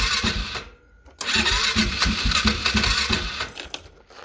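A small cheap engine bought from Temu, started cold with the choke on, catches after a short pause and settles into a loud, rattling, fast-firing idle that wavers and fades near the end.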